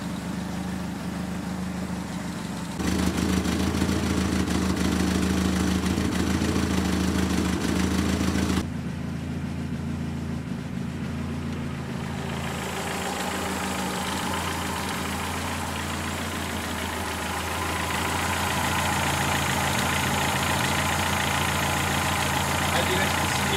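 A 1969 BMW 2002 idles smoothly with the choke off, a steady close-up engine hum whose loudness and tone shift abruptly a few times over the long stretch.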